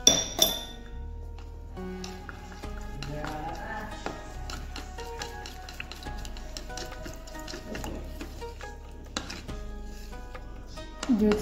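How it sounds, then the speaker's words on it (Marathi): Milk being stirred into a mango malai ice cream mixture in a bowl, giving steady clinking and tapping of a spoon against the vessel throughout, close and fairly quiet, with no one speaking. "आता हे व्यवस्थित मिक्स करून घ्यायचं।"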